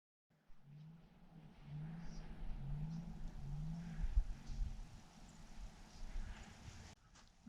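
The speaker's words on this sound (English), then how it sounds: "somebody is stuck over on the next road and they are gonna blow their truck up" A truck stuck on a nearby road revs its engine at a distance, a low droning growl that surges and falls in repeated pulls. It stays faint and rumbling under the quiet outdoor surroundings.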